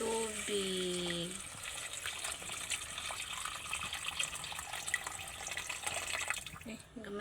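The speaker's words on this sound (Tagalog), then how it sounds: "Ato na siyang butangan og tubig." Water pours steadily into a pot with a continuous splashing gush, following a brief moment of speech at the start.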